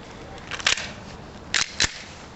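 A KJW Glock airsoft pistol fires during target practice, giving three sharp, snappy pops: one, then a pause, then two quick shots close together, nearby and with no talking.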